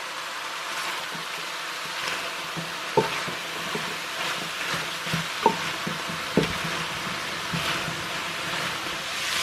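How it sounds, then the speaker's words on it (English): Shallots fry in a pan for tavas, a soft, steady sizzle with a few sharp utensil knocks and scrapes scattered through. "Firing all these shallots now"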